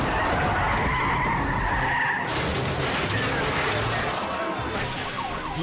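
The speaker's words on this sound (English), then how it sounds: "He nudges the car into a spin and runs the menace off the road." Car tires skid and squeal loudly as a police car nudges a fleeing vehicle into a spin during a highway chase, with a continuous hiss of rubber and engine roar throughout.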